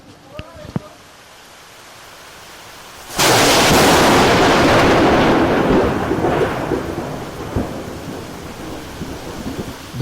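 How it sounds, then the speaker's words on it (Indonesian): A sudden, loud thunder crack bursts in after a quiet stretch, then rolls on as a long, broad rumble that slowly fades while rain hisses underneath. "masih ingatkah kalian dengan suara guntur yang menggelegar?"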